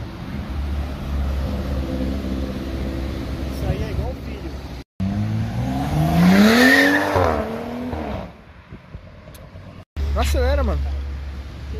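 A car, apparently a GLI, accelerating hard along a city street at night, engine roaring up in pitch with rising whines, while men chatter and exclaim nearby over the noise.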